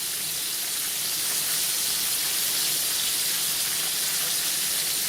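Chicken wings fry in hot oil with steady, dense sizzling and crackling, continuous and fairly loud with no pauses.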